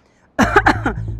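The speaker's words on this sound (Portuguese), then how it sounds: "Tossi, ó, aqui" After a moment of quiet, a single close, harsh cough bursts out with a rough, voiced rumble trailing after it.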